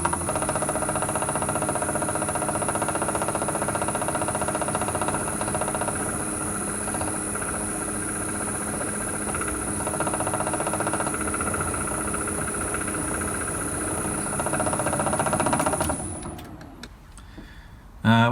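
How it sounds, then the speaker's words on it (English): A drill press with a worn spindle spline, fitted with a 3mm spotting drill, runs steadily while drilling a centre, with a continuous mechanical knocking and rattle throughout, and the motor winding down near the end. "While I was drilling that, you probably heard that kind of knocking noise."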